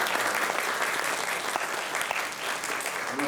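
Applause from a church congregation welcoming returning visitors during a Sunday service in Kenya, a steady sustained clapping from many hands filling the room without pause.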